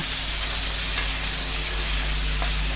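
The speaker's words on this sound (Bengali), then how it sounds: "এগুলো দেওয়ার পরে এই যে ভালো করে আলুটাকে নাড়িয়ে ভেজে নেব" Potatoes with turmeric frying and being stirred in a pan, producing a dense, steady sizzle close up with faint scraping, alone without talk.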